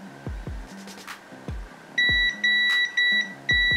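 Multimeter continuity test on a Wii Remote fuse: four loud, evenly spaced electronic beeps in the second half, each sustained about a third of a second, following several soft low knocks and handling taps.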